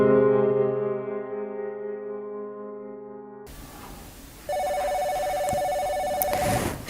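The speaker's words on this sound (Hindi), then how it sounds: "शांता का फोन इस टाइम?" A telephone rings in a home, a steady electronic ringtone tone that begins after a fading sustained chord and continues loud and unbroken for a couple of seconds.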